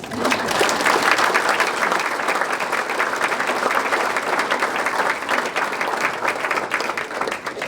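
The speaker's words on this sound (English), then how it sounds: "please give owner Brad Penrod a round of applause" Audience applause at a chamber of commerce annual dinner in Piqua, a dense, steady wash of clapping that stays loud and full from start to finish with no talking over it.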